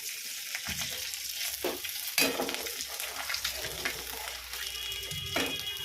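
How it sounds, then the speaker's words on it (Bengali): Fenugreek seeds tempering in hot oil for a fish curry with potato, eggplant and taro, giving a steady close sizzle that crackles and flares in short bursts, with occasional louder spatters over the continuous frying hiss. "এই মেথিটা সম্বার দেব।"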